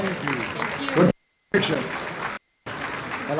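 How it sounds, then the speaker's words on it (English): Guests at a Greek Independence gala in the Ziegfeld Ballroom applaud Miss Greek Independence. The clapping is mixed with people talking close by, and two short dead-silent gaps interrupt the crowd noise. "Round of applause for Miss Greek Independence and Christiana Vasilis."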